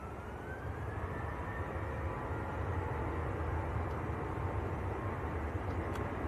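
A TUI airliner on its takeoff roll at Manchester Airport, bound for Tenerife South, gives a steady, broad distant jet roar that holds at an even level throughout, with no voices over it.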